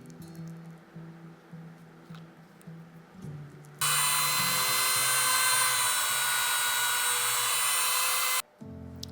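A power drill bores holes into leather for a knife sheath, running as a loud, steady high-pitched whine for several seconds after softer handling noises, then cutting off abruptly.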